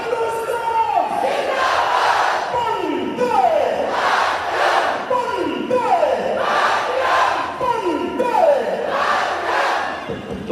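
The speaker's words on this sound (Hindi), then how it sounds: "भारत माता की नारे हैं और देखिए, महसूस कीजिए इन नारों को," A large open-air crowd at the Beating Retreat ceremony on the India–Pakistan border chants patriotic slogans in loud, rhythmic call-and-response waves, each rising shout repeating roughly every two seconds throughout.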